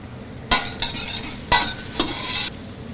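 Onions cooking in a pan, a bright sizzle punctuated by four or five sharp stirring scrapes in quick succession.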